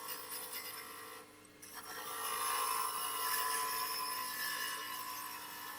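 A ball gouge shaping the outside of an oak lidded box spinning on a wood lathe, a continuous scraping and hissing cut that briefly drops off, then returns steadier and a little louder.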